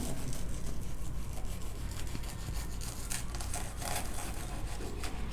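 A knife saws through a toasted paneer tikka masala sandwich, producing a continuous crisp, rasping crunch for several seconds, close and fairly loud, with no talking.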